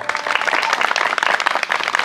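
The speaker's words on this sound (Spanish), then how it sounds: "Javier Escobedo, fuerte el aplauso." An audience claps at a gathering, a short burst of dense applause from many hands, close and lively throughout, with no talk over it.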